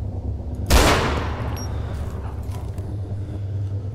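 A single loud gunshot bursts out in the video game DayZ Epoch, a sharp crack with a rumbling tail that slowly fades over steady low background drone.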